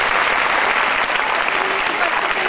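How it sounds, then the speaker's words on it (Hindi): Schoolchildren applaud steadily at a school-grounds patriotic event, a dense, continuous wash of many hands clapping loudly without a break. "आप सभी बच्चे जोरदार ताली बजाकर"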